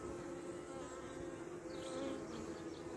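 Honeybees hum around a beehive in a steady, faint, continuous drone, with a few individual bees buzzing briefly nearer.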